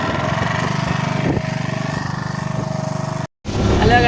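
A small motor boat carrying passengers runs its engine with a steady, close, droning putter that has a pulsing rhythm. After a short break the engine noise returns slightly rougher.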